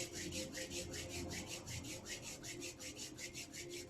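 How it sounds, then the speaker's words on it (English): Palms rubbed briskly together during a gentle accessible yoga session, a steady rhythmic swishing friction close and fairly quiet, with no talking over it. "I invite us at this time to begin to start rubbing your palms together."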